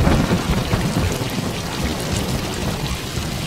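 Heavy rain pours steadily during a thunderstorm, with dense broadband hiss and low thunder rumbling throughout, loud and continuous with no voices.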